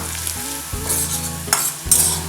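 Chopped onion sizzles and fries in a hot pan while a spoon stirs it, with scraping strokes over a continuous crackle and a tonal hum underneath.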